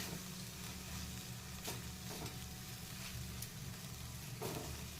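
Moong dal roasts in oil in a pan, a constant quiet sizzle with a few short scraping stirs spaced apart, close and alone without speech.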